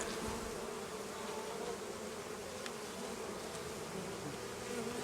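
A captured honeybee swarm buzzes in its hive, a soft steady drone of many bees heard up close with no voices.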